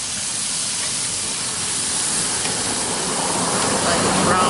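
Squirrel pieces browning in a pan of oil, a loud, dense, continuous hiss of frying that swells slightly toward the end, with no clear talk over it.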